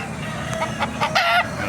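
Hatch gamecock chickens at a poultry market in Baliuag, Bulacan give a few short clucks followed by a rising crow, moderately close over a low background murmur.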